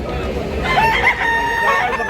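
A rooster crows loudly and close at a Sunday gamecock market in Tabunok, Talisay, Cebu, its rising call standing out over a busy crowd murmur.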